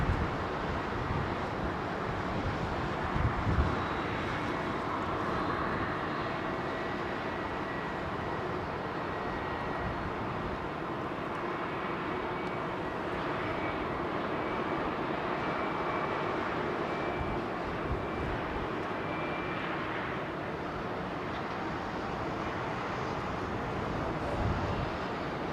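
A British Airways Boeing 777 at London Heathrow Airport, its jet engines holding a steady, moderately distant rumble with a broad hiss and no talk.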